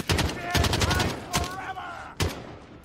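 Gunshots in the Modern Warfare video game, several sharp, loud cracks in quick succession with a booming low end, a louder last shot after a short gap, set against game sounds and brief voices.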